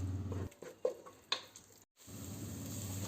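Tomato paste sautéing in a pan until dry, a soft sizzle broken by a few clinks and scrapes of stirring, then a brief pause before the quiet frying resumes.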